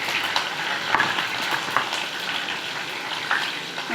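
Curry leaves, sesame seeds and cumin dropped into hot oil spit and sizzle loudly, a dense continuous crackle with brief sharper spurts and a few stirring sounds.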